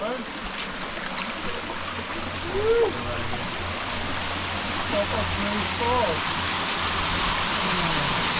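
Steady broadband rush of water at Grace Falls, a waterfall on a remote Amazon mountain, running continuously and fairly close, with faint voices and brief birdlike calls breaking through the constant wash.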